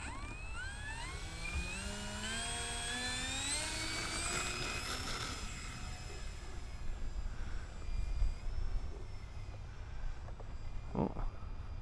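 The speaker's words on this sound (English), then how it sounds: "second flight of the day with the Cirrus. We're going to do some takeoff and landing practice" An E-Flite Cirrus SR22T radio-controlled model airplane flies during takeoff and landing practice, its electric motor giving a high, whining drone that rises and falls as it passes, moderately distant and alone.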